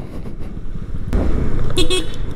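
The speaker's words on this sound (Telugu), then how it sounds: "హారన్ కూడా చాలా డీసెంట్గా ఉంది" A Yamaha Fascino 125 scooter from 2021 gives a short, fairly loud horn toot near the end, over engine and road noise while riding.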